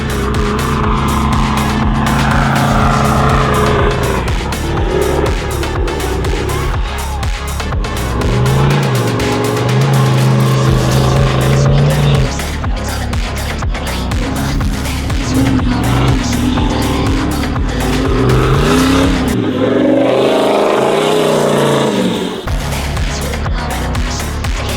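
Toyota Landcruiser pub truck driving hard through Simpson Desert sand, a loud sustained engine roar with rising and falling revs, close and continuous with no talk over it.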